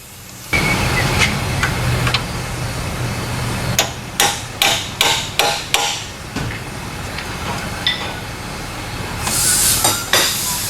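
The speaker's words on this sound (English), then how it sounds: "I had to hammer the socket onto it" A hammer strikes a socket to drive it onto a nut while headers are fitted to a Lincoln Mark VIII. There are about eight sharp metallic blows, mostly in a quick run near the middle, over a steady background hum.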